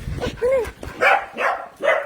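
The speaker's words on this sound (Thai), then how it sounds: "ไม่เห่าตีมี่" A pet dog indoors gives a few short, sharp barks in quick succession, fairly close, with a person talking over and between them.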